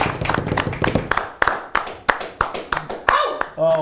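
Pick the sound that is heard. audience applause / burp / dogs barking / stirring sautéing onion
audience applause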